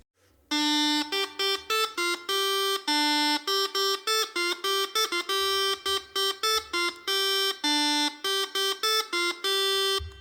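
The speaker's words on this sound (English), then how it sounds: "I used the chanter to play the first part of the main melody." A reedy, buzzing chanter plays a stepped melody of sustained notes with short breaks between them, steady and fairly loud with no voices.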